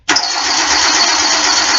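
A car engine cranks without catching: a loud, close, continuous starter whir that starts abruptly and runs for about two seconds with no firing.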